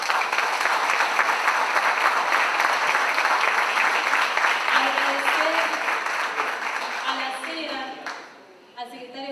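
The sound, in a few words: audience applause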